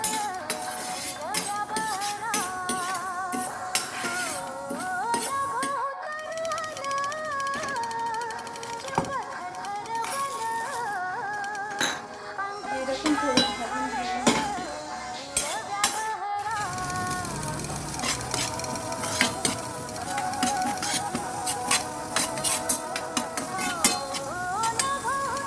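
Whole spices including black pepper, green and black cardamom, stone flower and cinnamon dry-roasted in a pan over a low flame, with steady scraping and clinking of a utensil against the pan throughout, plus a few louder knocks.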